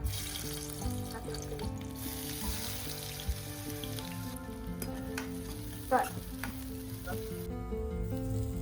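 A crab curry mixture sizzles and fries in a wok, with a steady crackling hiss and occasional scraping clinks of stirring, no speech.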